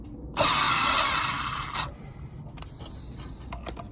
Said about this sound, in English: Now it's just time to screw it down.